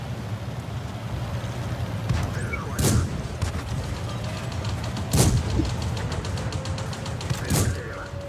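Tank cannon fire in World of Tanks, BT-SV: three sharp booming shots spaced a few seconds apart over a steady engine rumble and battle ambience.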